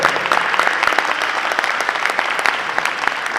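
An audience at a youth entrepreneurship panel applauds, loud, dense and even clapping from many hands filling the room without pause.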